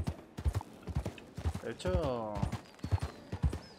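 Horse hooves clip-clop in a steady rhythm in Red Dead Redemption 2, with a brief whinny partway through, as someone speaks briefly over the footsteps.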